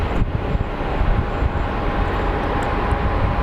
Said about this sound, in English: we should have an ABX airplane get ready to depart